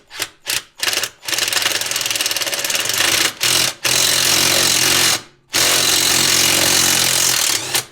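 An impact driver drives self-tapping screws into a UHMW plastic skid plate on a 4x4, hammering loudly and close in a few quick stuttering bursts, then in long sustained runs broken by short pauses.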